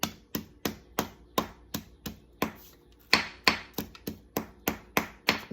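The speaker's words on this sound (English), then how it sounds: "just bang around my leaf" A hammer bangs on a leaf folded inside paper, about sixteen sharp, close strikes in a steady rhythm with one short pause partway through.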